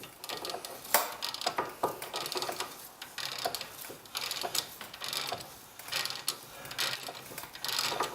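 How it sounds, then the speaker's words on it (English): A socket ratchet tightens the wheel hub bolts on a 2011 Chevrolet Malibu during a wheel bearing hub assembly replacement, giving close, rapid clicking in repeated bursts with short pauses between strokes. "we're gonna go back, tighten those down with the socket"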